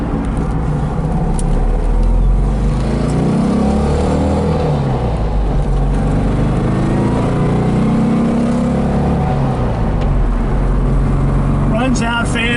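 A 1965 Porsche 356C on a test drive near Laguna Beach, California, with a steady close engine drone that rises and falls as it shifts and accelerates. Road and wind noise run underneath, and there is no talking.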